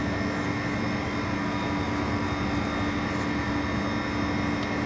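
A NOVECEL Q7 R freezer runs with a steady, continuous mechanical hum and broadband whir, loud and unbroken throughout, with a constant low tone and no talking.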